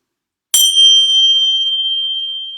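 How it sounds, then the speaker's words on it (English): A single bell struck once to open a yoga practice, a bright ding that rings out alone in a quiet room and sustains with a long, slowly fading clear tone. "So let's begin with our bell."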